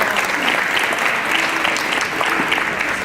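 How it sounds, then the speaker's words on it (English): An audience applauding at a community MLK breakfast in Hamtramck, a dense, steady wash of many hands clapping at full strength for the whole stretch, with no one speaking over it. "give them another round of applause"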